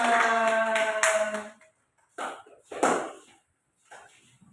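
A class claps hands in a few short, separated bursts after a group's presentation, following a sustained tonal sound at the start.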